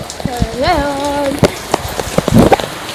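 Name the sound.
rain falling in the Philippines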